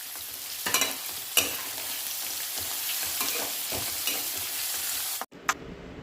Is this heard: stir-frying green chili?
yes